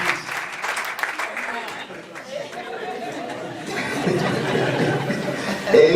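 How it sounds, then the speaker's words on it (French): A church congregation claps and cheers in a packed hall, the applause swelling and continuing under scattered chatter and chuckles, with a voice speaking over it. "Give them a big hand."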